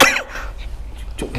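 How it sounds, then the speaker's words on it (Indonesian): A man's harsh cough bursts out sharply at the start, followed by quieter throat sounds and a second smaller cough near the end, close and fairly loud. "Batuknya aja batuk."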